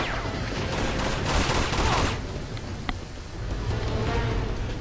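Rapid bursts of gunfire in the Uncharted 2: Among Thieves video game, dense volleys crackling over a noisy battle backdrop, with a single sharper shot standing out near the end.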